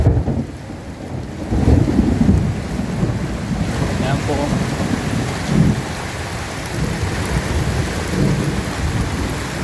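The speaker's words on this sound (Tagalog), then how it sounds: "Lakas ng dagugtong ng ulan." Steady heavy rain pours down in the provinces with deep rolling rumbles of thunder swelling and fading, and a brief voice speaks over the downpour.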